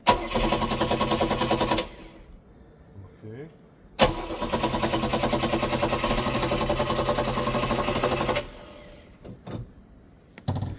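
A rare military 6x6 truck engine starts, runs loud and steady for about two seconds, dies, then restarts and runs again for over four seconds before cutting out, with brief knocks and a voice near the end.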